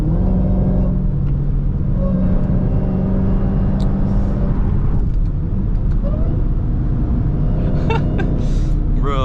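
Dodge Charger Hellcat engine in highway traffic, a loud steady deep rumble with low droning exhaust tone heard from inside the car, road noise constant underneath and a few faint squeaks near the end.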